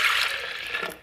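Milk pours into a blender jar in a short steady liquid rush, close and fairly loud, fading toward the end.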